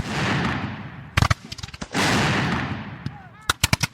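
Cannon and musket fire from Mexican defenders in the Mexican-American War battle at Molino del Rey: two long, loud booming rolls, each followed by clusters of sharp cracking shots, with rapid close volleys near the end.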